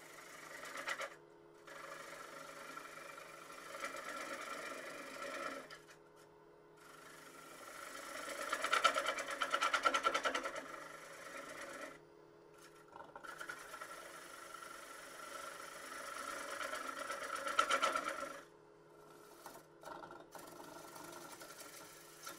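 A wood lathe spins a thin bowl across end grain, a steady mechanical hum broken by swelling bursts of cutting noise and short pauses, fairly quiet throughout.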